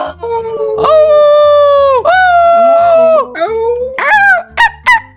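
Human voices imitate wolf howls during Minecraft play: long, wavering, rising-and-falling howls loud and close, followed by a few short yelping bursts.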